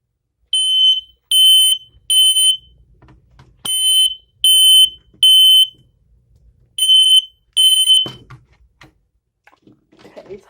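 An ionization smoke alarm sounds its test signal: eight loud, shrill electronic beeps in groups of three, three, then two, close by, followed by faint handling noise.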